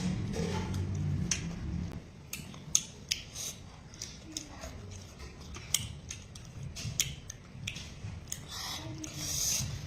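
Close, crisp chewing and crunching of sour tamarind pods, with irregular sharp snaps and bites over quiet room tone and a little soft talk.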